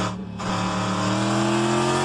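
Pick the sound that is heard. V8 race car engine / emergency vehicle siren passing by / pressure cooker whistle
V8 race car engine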